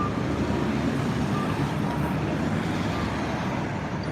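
Steady, continuous road traffic on a Tokyo street, a dense rumble of passing cars and vehicles heard from the roadside without pause.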